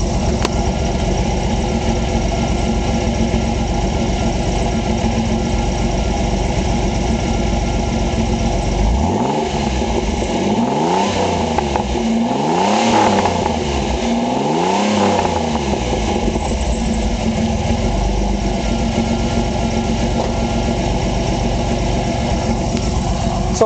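A 1988 Pontiac Fiero GT with a 5-speed idles loudly and steadily, then revs several times in a row before settling back to idle, with no talking.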